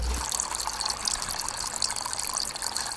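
Water trickling and gushing into the vessel of a water clock as a floating cork rises, a steady bright splashing stream heard close and alone.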